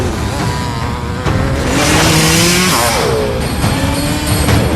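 KLX motorcycle engine revving hard, a loud, close, sustained roar with rising and falling pitch sweeps as the throttle is worked, mixed with other busy noise throughout.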